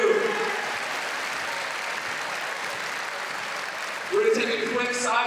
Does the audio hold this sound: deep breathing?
no